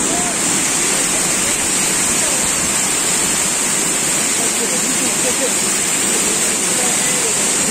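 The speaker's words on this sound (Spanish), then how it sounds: "encontramos otra cascada, tal vez de las mismas dimensiones o un poco más alta que la anterior" Steady, roaring rush of the Pucará waterfall in El Tambo, Catamayo, Ecuador, constant and loud throughout with no breaks, like standing close to a cascade.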